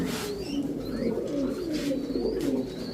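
Silver pigeons coo continuously in low, rolling murmurs, with faint chirps from other birds scattered above; no voices.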